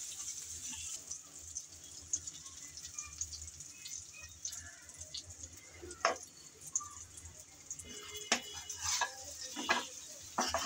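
Kochur loti (taro stolons) being stirred in a pan on low heat, a faint, steady sizzle with scattered spoon scrapes and clanks growing busier toward the end, close and without talk.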